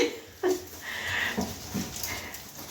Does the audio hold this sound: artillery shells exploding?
no